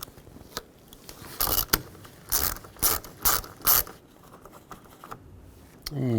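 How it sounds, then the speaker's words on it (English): A ratchet with a 13mm socket turns a nut off during a 2009-17 Chevy Traverse water pump replacement, giving several short bursts of rapid clicking close by between quieter pauses. "Use a 13mm socket and remove the nut."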